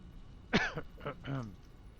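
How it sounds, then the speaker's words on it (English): A single harsh cough close to the mic, followed by a rough throat-clearing rasp, with no talking. "Sorry for the coughs. Like, I legit can't shake this damn cough."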